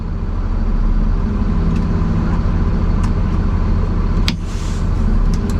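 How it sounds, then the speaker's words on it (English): A Mercedes-Benz Unimog U500 diesel engine runs at a steady loud rumble with a constant low drone, briefly dipping in level near the end before settling again. "starting up the Unimog"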